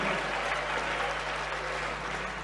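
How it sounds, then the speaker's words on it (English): An audience at a formal address applauds a distinguished speaker, even, continuous clapping from many hands under a steady low hum. "another round of applause for our distinguished speaker, Honorable Dr. Osei Akoto."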